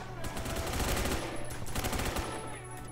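Gunfire in the online shooter game Phantom Forces, with a dense, continuous volley of rapid shots filling the whole short stretch at a fairly distant, muffled level.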